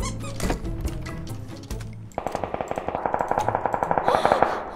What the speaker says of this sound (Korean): 총소리가 왜 이렇게 무서워